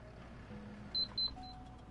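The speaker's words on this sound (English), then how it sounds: "I already hear the truck backing up." Reversing beeps from a truck backing up, with two distinct high tones and a fainter third, fairly distant, over a steady low background rumble.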